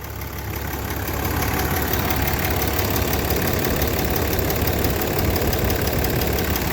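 A 2009 Dodge Ram 2500 4x4 with a stock 6.7 Cummins diesel idles under the open hood, giving a steady, close, rumbling clatter with no talking over it.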